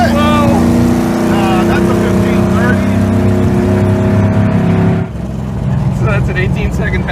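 A muscle car's engine revs hard during a drag strip pass: a loud, sustained high-revving drone that drops off abruptly near the end, with people talking over it.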